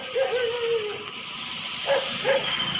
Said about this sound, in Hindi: और ये देखो कैसे भौंक रही है अब।